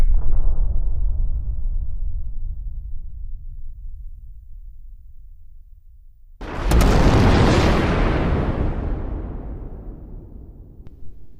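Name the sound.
planet Earth exploding in a Minecraft-style video game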